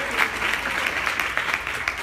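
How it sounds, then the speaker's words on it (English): Audience applause at a women's awards ceremony, a dense, steady burst of many hands clapping close by, with no voices over it. "you can go ahead and clap, absolutely"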